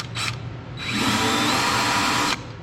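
A power drill bores into a workpiece while making skid steer hydraulic adapters: a short whir, a brief pause, then a sustained loud drilling whine close by that cuts off sharply.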